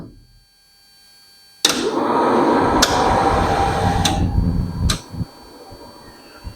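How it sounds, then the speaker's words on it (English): A blower fan behind the heater on a Factory 5 Racing roadster kit car switches on abruptly and runs as a steady, loud broadband whoosh with a few clicks, easing off near the end. "Now let's check out our super secret blower switch."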